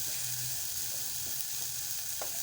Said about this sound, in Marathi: कांदा घालत आहे